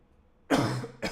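A single short, sharp human cough sounds close up, followed by a brief second burst, in a quiet room.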